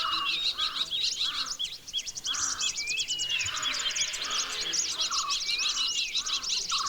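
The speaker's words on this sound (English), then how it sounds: "these are birds that we recorded in Vagaman" Resident birds in Vagamon, Kerala sing and call together in a dense outdoor chorus, with rapid high chirps and trills over repeated lower honking or clucking calls, steady and fairly close throughout.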